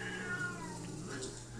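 A cat gives a single drawn-out, whiny meow close by, wavering in pitch for over a second against a steady background hum.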